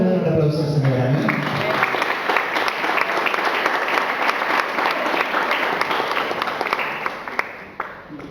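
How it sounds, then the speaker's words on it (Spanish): Congregation at a church service breaks into sustained applause, dense and steady for several seconds, with a few voices calling out over the clapping as it slowly tapers toward the end. "¿Cuántos me dan un aplauso al Señor?"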